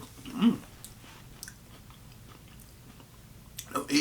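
Egg salad with olives being chewed close to the mic, with a couple of wet bites near the start and end and quieter mouth sounds between them. No one talks.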